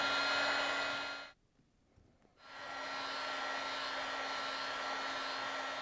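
A heat gun warms the door gasket of a Frigidaire/Electrolux refrigerator. It gives a steady airy roar that cuts out for about a second and then comes back to a constant blowing hiss.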